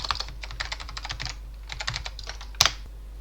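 Typing on a computer keyboard during a VirtualBox setup, a close run of quick clicking keystrokes with a short pause and then a sharper final key press, with no talking.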